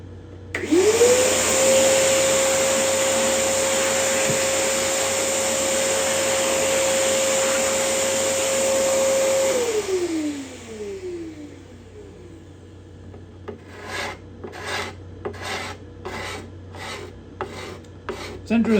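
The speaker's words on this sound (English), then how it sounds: "Okay, I'm gonna hit that with a vacuum." Shop vacuum cleaning dust from a freshly scraped cedar guitar top: a loud steady suction roar that holds for about ten seconds, winds down, then gives way to a series of short rhythmic scraping or rubbing strokes.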